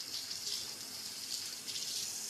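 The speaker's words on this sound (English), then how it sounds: "Let me rinse my hands." A kitchen tap runs steadily while hands stained red from cherries are rinsed beneath it, a continuous hissing stream of water close by with slight fluctuations as the flow is broken, no talking.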